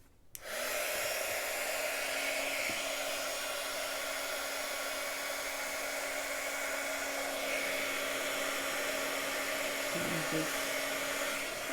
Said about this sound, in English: Okay, so we're going to heat up our gun again.